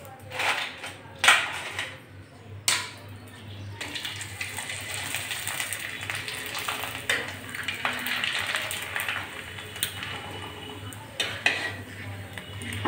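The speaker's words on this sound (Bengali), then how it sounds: "আমি সমস্ত পাঁপড় একই রকম করে ভেজে নিচ্ছি বন্ধুরা" Sago papads fry one after another in hot oil, with clinks of a metal utensil against the pan and a steady background sizzle, plus occasional scraping and handling sounds.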